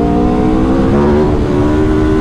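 An Aprilia motorcycle engine revs hard and climbs in pitch under acceleration, loud and close, with the engine's rising tones running through the whole short burst.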